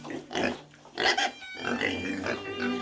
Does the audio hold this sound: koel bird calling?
no